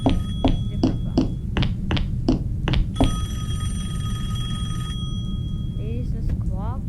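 A telephone in a horror video game rings in a steady run of sharp, evenly spaced bell bursts, then one longer sustained ring, heard up close over a low rumbling background with a brief chirp near the end.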